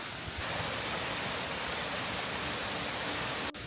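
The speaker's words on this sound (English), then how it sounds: "So we decided to come check out this waterfall that's near the rainforest." A waterfall near the Hoh rainforest in Olympic National Park pours as a loud, steady broadband rush of falling water that fills the whole clip, ending with a brief handling knock.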